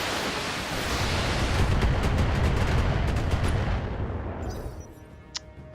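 Mech weapons fire a salvo in the Battletech video game: a dense, rumbling barrage of booming shots that swells and holds for several seconds, then fades out with a last faint crack.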